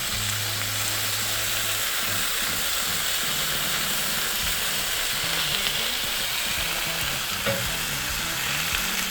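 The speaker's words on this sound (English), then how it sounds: "you're just getting pure Maillard reaction, right? Just nothing but sear." Smash burger patties searing on a hot surface give a loud, steady, crackling sizzle with a constant hiss throughout and no voices.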